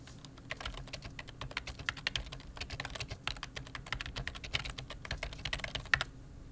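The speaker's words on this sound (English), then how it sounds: "I'm going to create a new cell and type out my answer" Rapid typing on a computer keyboard while entering an answer into a NetMath cell, with a dense, steady patter of key clicks that runs for about six seconds at close range with no voices.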